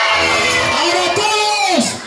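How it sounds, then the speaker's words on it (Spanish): A crowd of children at an outdoor Holi party lets out a long, loud, sustained shout in unison, with rising and falling cheering voices filling the space, close and dense, before it tapers off at the end. "¡Ahora los niños un grito!"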